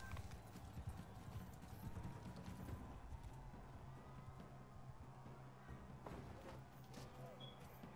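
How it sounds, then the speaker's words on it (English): Horses in the medieval battle game Mount & Blade II: Bannerlord, with steady clip-clop of hooves and an occasional whinny, mixed into busy battle noise and players talking over it. "Guys, stop trying to kill the horses."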